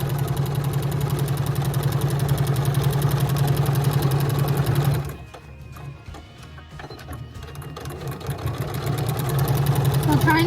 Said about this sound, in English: we're gonna just sew around here, a 1/4 inch seam allowance